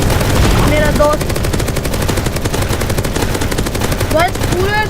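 Rapid automatic gunfire in the Roblox video game as a player shoots at a giant zombie, a dense continuous burst of shots throughout with brief chirping game effects.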